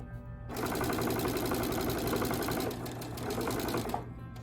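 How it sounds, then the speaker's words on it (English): A sewing machine runs steadily, stitching binding around the edge of a quilt and mitering a corner, its rapid mechanical whir loud and close for about three and a half seconds before it stops. "And just keep sewing all the way around."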